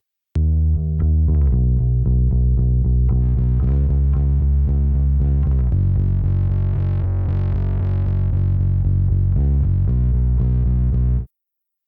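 A distorted bass guitar plays a sustained, thick line in a studio mix, loud and steady throughout, with gritty overdriven harmonics and chorus-like shimmer, alone and without talk until it cuts off abruptly.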